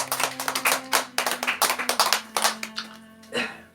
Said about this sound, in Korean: 박수 드립시다.